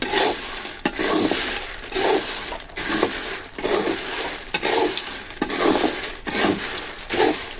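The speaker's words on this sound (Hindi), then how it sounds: "बादाम को डाल दिए कढ़ाई में, चलिए चलाते हैं चकुआ से।" Almonds are stirred in a hot kadhai with a spatula, giving repeated rhythmic scraping and rattling strokes roughly every half second, close and steady.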